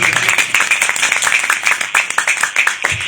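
A church congregation at a Christmas service claps together in a fast, steady rhythm, loud and close, with many hands striking in unison throughout.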